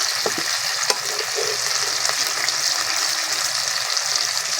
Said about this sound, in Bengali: ভালো করে ভেজে নিতে হয় মাছগুলো